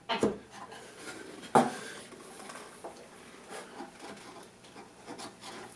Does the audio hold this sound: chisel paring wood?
yes